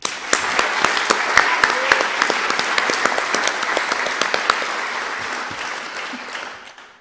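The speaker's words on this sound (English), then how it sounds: "Please join us in a round of applause." Audience applause at a university homecoming coronation ceremony, steady dense clapping from a large crowd sustained for several seconds before tapering off at the end.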